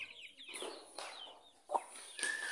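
Chicken clucking at close range among young, fast-growing chickens, several short scratchy calls spread across the moment with one sharper squawk near the end, no talk over it.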